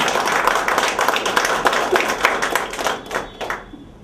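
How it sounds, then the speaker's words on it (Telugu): An audience at a talk on Dr. B. R. Ambedkar at Shanthichakra claps together in a burst of dense, crisp applause that gradually thins out and fades. "ఒకసారి చప్పట్ల ద్వారా మనం జై భీమ్ తెలియజేద్దాం"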